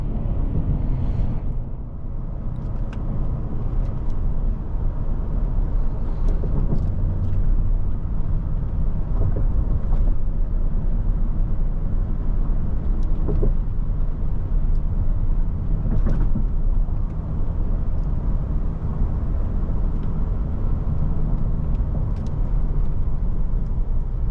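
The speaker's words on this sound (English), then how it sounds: "Oh yeah, you put your foot down, this thing will definitely pick up speed." A steady, loud low-pitched rumble of engine and road noise fills the cabin of a 2022 Lincoln Navigator L Reserve as it accelerates. The rumble holds constant throughout, with a few faint clicks and knocks.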